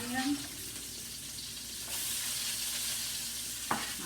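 Celery goes into a hot pan for a vegetable and sausage stir fry, giving a soft steady sizzle that swells partway through, with a brief scrape of stirring near the end.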